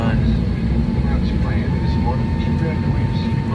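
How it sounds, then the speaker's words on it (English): Steady low roar of an airplane cabin on the ground before takeoff, engines and air systems droning continuously and fairly loud with no breaks. "We are actually on the plane right now,"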